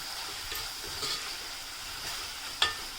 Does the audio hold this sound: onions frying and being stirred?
yes